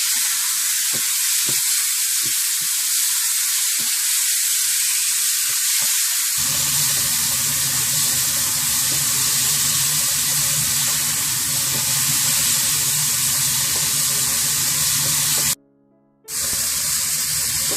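Chicken frying in a little sesame oil over high heat, sizzling loudly and steadily throughout with a brief break near the end; cooking clinks are heard early on.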